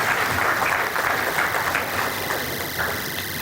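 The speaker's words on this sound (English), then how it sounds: "A big round of applause for our chief guest," A hall audience welcomes the chief guest with sustained applause, dense and even clapping that carries from start to finish with no voices standing out.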